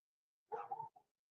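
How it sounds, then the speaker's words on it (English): A dog gives a short bark followed by a quick softer yip, nearby and isolated against silence. "Yes, yes, the dogs."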